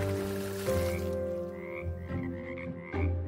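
A big frog croaks repeatedly as a cartoon-style sound effect in a French children's audio story, the throaty croaks coming in uneven bursts with no voices over them.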